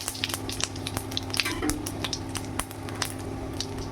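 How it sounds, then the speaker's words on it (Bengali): Fennel seeds and two bay leaves crackle in hot mustard oil as a Bengali tempering, giving a steady close sizzle with scattered sharp pops throughout and no talking. "দিয়ে আমি ফোড়নের জন্য নিয়েছি মৌরি আর দুটো তেজপাতা। আমি দিয়ে দিলাম ফোড়ন।"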